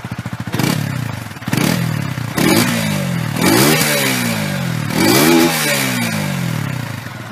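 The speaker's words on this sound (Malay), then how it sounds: "Kita cuba start dengar engine" A 2017 Benelli RFS 150i motorcycle engine is revved up close about six times in a row, each rising snarl dropping back toward idle, with some mechanical clatter and no talking.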